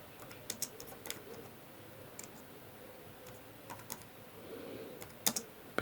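Keys clack on a computer keyboard in quick, irregular bursts of light clicks, fairly close but soft, with short pauses between the runs and no talking.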